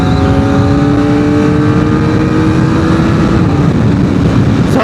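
A Modenas ZX-4R SE motorcycle engine on a test ride gives off a loud, steady, buzzing drone with a constant pitch, heard close up with no voices.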